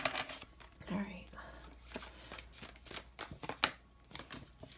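A deck of tarot cards being shuffled produces a series of soft, quick papery flicks and riffles, close by and fairly quiet, while someone talks softly over it.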